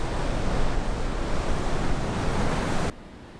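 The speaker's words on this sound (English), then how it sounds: "a strong high tide covering the entire beach and crashing against the shore" Strong high tide waves crashing against a French beach, a loud, steady roar of surf with no break that cuts off abruptly near the end.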